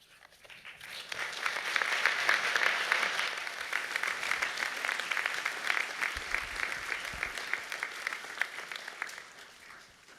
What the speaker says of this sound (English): that was a very polite applause